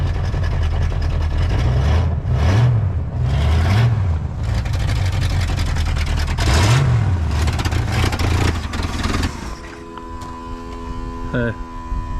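The loud, rough engine of a 1967 Pontiac Tempest station wagon with a leaking exhaust revs up and down repeatedly with a raw, blatting exhaust, then settles to a lower idle with a humming tone.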